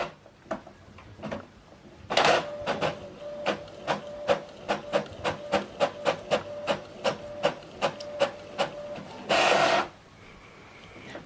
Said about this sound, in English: And now it's printing the document.